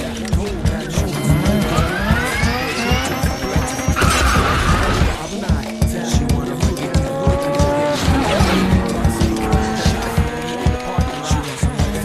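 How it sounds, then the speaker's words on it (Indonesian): A Mazda RX-7 speeds through a Tokyo Drift film scene with loud, revving engine bursts and repeated tire squeals and skids, plus a brief crash-like clatter partway through. "Mobilnya itu namanya Mazda RX-7, melaju sangat cepat hingga ditembak kecepatan oleh polisi"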